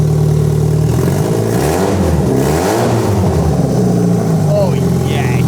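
A freshly rebuilt Rover 25 engine revs up and settles back, a smooth mid-pitched rise and fall heard up close and loud, with people talking over it.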